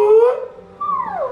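A dog's short singing howl, a loud, near wavering note followed by a rising-and-falling second cry, with no voices.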